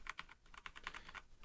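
Rapid typing on a Velocifire VM30 mechanical gaming keyboard, about ten crisp, close keystrokes in quick, slightly uneven succession with no voice.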